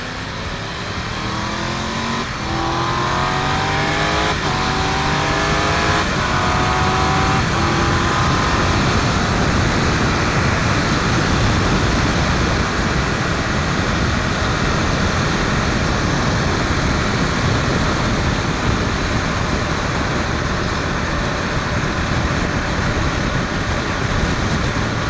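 A modified car drives at freeway speed, its engine note climbing through gear shifts before settling into a loud, steady roar of road and wind noise heard from inside the cabin, with no talking.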